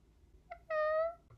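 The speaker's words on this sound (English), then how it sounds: "Meow." A cat gives a single clear meow, drawn out and fairly close, preceded by a faint short chirp in an otherwise quiet scene, with a brief sound starting just at the end.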